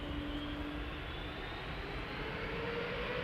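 A JetBlue Airbus A321neo departing Amsterdam Schiphol for Boston gives a continuous broadband jet roar with a slowly rising whine, fairly distant and steady, no voices.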